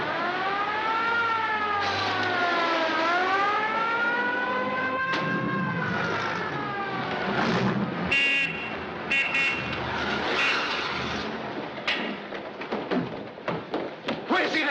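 A wailing ambulance siren rises and falls in long sweeps while the vehicle pulls away, with thuds and car noise mixed in, then the scene breaks into scattered knocks and movement as the siren recedes.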